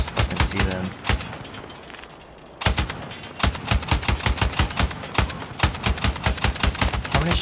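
Rapid gunfire in the Halo video game, loud bursts of repeated shots in quick rhythmic volleys, with a short pause partway before the firing resumes.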